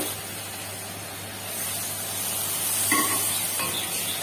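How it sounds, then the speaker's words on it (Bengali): Cumin and dried chili powder paste mixed in water hits hot oil in a pan, giving a steady hissing sizzle that rises slightly midway, with a couple of brief clinks near the end. "এবার দেখো এর মধ্যে এই যে জলে গুলে রেখেছিলাম জিরে আর শুকনো লঙ্কার গুঁড়ো, এটাকে দিয়ে দেবো।"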